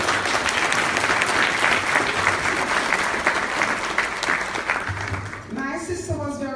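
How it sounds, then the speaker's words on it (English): A luncheon audience claps for relatives at a table, dense and steady applause for several seconds that fades as a voice begins speaking over it. "could you please applaud them?"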